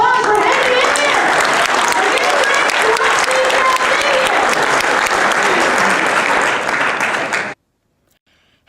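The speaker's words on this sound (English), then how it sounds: "Give yourselves a big round of applause for hanging in there." Loud, dense audience applause at a celebrity-style roast event, a sustained wash of many hands with some crowd noise, running steadily for about seven seconds before cutting off abruptly into silence.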